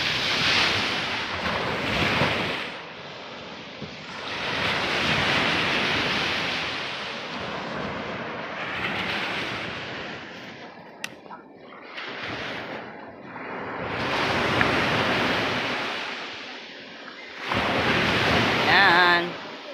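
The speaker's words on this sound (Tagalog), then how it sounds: "Medyo may alon-alon po, ayan" Sea waves rock a small fishing boat, surging in broad washes that rise and fall every few seconds, with strong wind buffeting the microphone and no talk.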